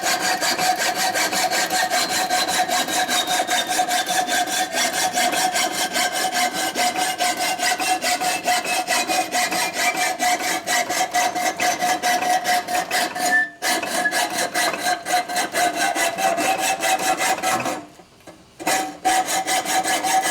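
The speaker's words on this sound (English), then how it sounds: "So we're going to go with a hacksaw now." A hacksaw cuts through the cam cover of a 1971–76 Harley-Davidson Sportster Ironhead, a close, rapid and steady rasping of back-and-forth strokes on metal for about twenty seconds, pausing briefly twice, with no talking.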